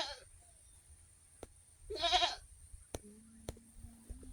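A single goat bleats briefly at close range while goats are loaded for delivery, set against near silence with a few faint knocks and a low hum.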